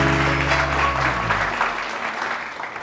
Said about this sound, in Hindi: बहुत सारी तालियां वाजिद के लिए